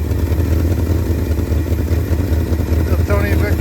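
Engine of a 1971 Ford F250 truck running steadily nearby, a loud, even idle with a low throb and light clatter that continues through the whole stretch.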